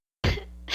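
A single harsh cough bursts out close and loud after silence, trailing into a rough breathy tail, as a character chokes up blood in a narrated story.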